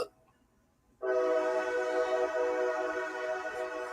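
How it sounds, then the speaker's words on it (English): A train horn blares suddenly and holds as one long, loud, steady tone, near and dominant, after a second of quiet. "I know it's an annoying ass train."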